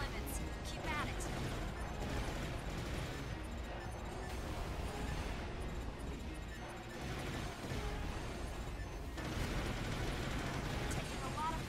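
A pillar structure collapses and explodes in Armored Core, a rolling barrage of rumbling blasts and crashes over constant battle noise, with radio voices speaking at times.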